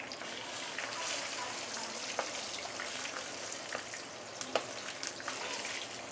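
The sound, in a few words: ikan kembung fish deep frying in oil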